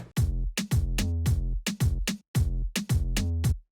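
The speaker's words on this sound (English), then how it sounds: "Then with the dembo and snare," A syncopated reggaeton-style dembow drum loop for a moombahton track, with booming kicks and crisp snare hits, repeating in a quick, bouncy rhythm.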